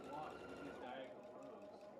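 A sewing machine runs steadily while chain piecing small quilt blocks, a continuous low motor whir held faintly in the background of a quiet room.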